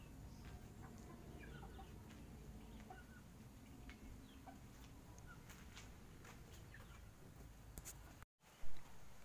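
Hens in a backyard poultry pen cluck softly and intermittently in short calls over a quiet outdoor background, ending with a brief louder thump.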